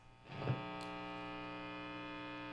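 A Marshall AVT 50H guitar amp with the gain turned to maximum, rising into a steady, buzzing mains hum after a brief swell, continuous and even, with no one speaking.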